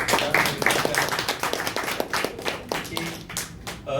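Audience clapping at an open mic poetry night in Bangalore: a modest crowd claps in distinct, close, uneven hand strikes, with a few voices murmuring underneath.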